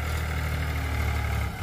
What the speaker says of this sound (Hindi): आवाज़ सुने आप इसकी, कितनी बेहतरीन आवाज़ कर रहा है ट्रैक्टर